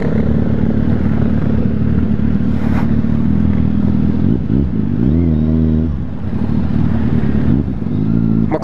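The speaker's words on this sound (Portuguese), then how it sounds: "Quantas motos aqui, ó, posto Castelo" Many motorcycles, including a Kawasaki Z800, idle with a steady rumble at the Posto Castelo gas station, broken by a few rising and falling revs, close and loud throughout.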